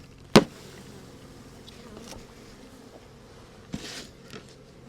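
A steady low honeybee hum runs through as a bee package is installed, with a sharp tap near the start and a couple of faint knocks later.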